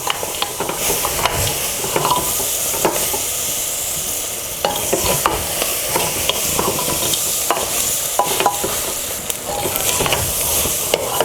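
Goat curry ingredients being stirred in a hot pan: continuous loud sizzling with frequent scraping strokes of a spoon against the metal, close up and steady throughout, no voices.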